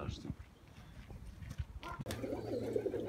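Pigeon cooing at a loft among sleepy, sickly birds, soft low coos with some handling noise and a sharp knock, then a steady hum near the end; no talk.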